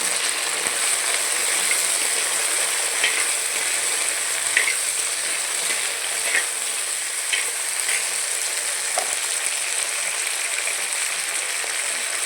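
Two finely chopped tomatoes sauté with turmeric in a hot pan. A continuous close sizzle runs throughout, broken by occasional soft stirring scrapes.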